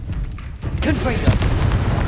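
A Confringo blast spell in the Hogwarts Legacy video game bursts with a deep, booming explosion and a rumbling tail, loud and close amid ongoing game action, with a voice speaking over it.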